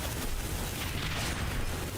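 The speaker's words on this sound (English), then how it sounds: "They're throwing all these bombs." Bombs exploding in a combat video game, a dense continuous roar of blasts and rumble filling the whole stretch without clear gaps, fairly loud with no talk.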